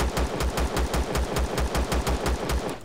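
An enemy turret fires steadily at a hover vessel in the sci-fi survival game Empyrion Galactic Survival, a loud, rapid, evenly spaced burst of about fifteen shots with no talk.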